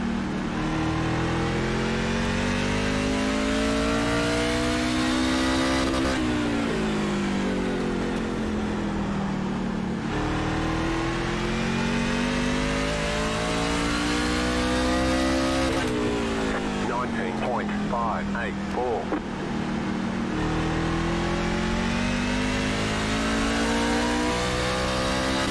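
A truck engine in iRacing at Martinsville Speedway revs up through the gears in repeated rising sweeps, backing off and climbing again each lap section, loud and close throughout.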